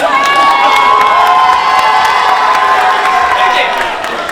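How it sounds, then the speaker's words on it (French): A large crowd at the KRIB 2024 AgroContenders event cheers and shouts loudly and continuously, with high excited voices and whoops blending into a dense roar that eases slightly at the end. "on essaye de faire des applaudissements qui durent pas trop longtemps"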